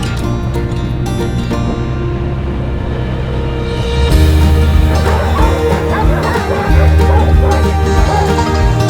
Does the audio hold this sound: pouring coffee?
no